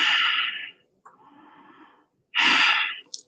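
Deep relaxing breaths during a guided breathing exercise: a long strong exhale, a softer quieter inhale, then another forceful breath out, close to the microphone with no speech.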